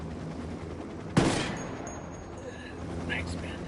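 An Apache helicopter in the video game Ghost Recon fires its machine gun, a sudden sharp blast followed by a rumbling decay over steady background noise, with faint game sounds after.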